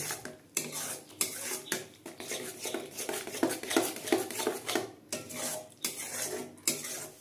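A spoon scrapes and clatters against a pan in a steady rhythm while mango sandesh mixture with cardamom powder is stirred and dried out, close and fairly loud, with a faint sizzle underneath and no talking.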